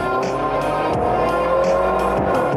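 A sports car's engine pulls hard and loud under sustained acceleration, its rising, harmonic-rich drone sweeping upward across the gear changes, heard close and without talk.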